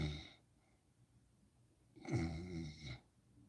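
A person imitates snoring with their voice: two rasping snore-like breaths, a short one at the start and a longer, louder one after a pause, in a quiet room.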